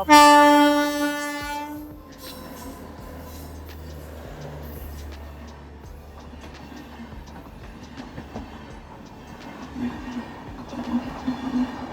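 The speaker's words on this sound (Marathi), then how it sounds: "कोकण रेल्वे गाडी आली" A Konkan Railway train pulls in near Chiplun, opening with a loud multi-tone horn blast, then a steady rumble and rhythmic clacking of wagons passing close by, with some talk over the rolling noise.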